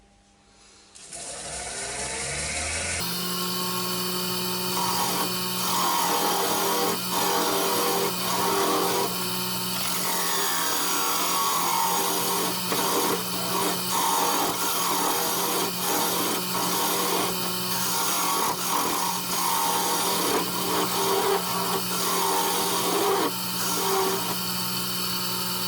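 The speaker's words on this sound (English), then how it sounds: "I'll get my trusty spindle gouge, and away we go, nice and gently." Wood turned on a lathe with a spindle gouge: the motor starts, then a loud continuous hum carries close, rough scraping and cutting as the tool works the spinning piece, steady for most of the clip.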